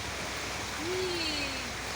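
A swollen river rushing after heavy rain, a steady broad wash of flowing water heard from the bank, fairly quiet and continuous, with a faint voice briefly rising over it.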